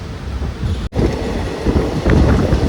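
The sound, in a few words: train picking up speed on single-line railway track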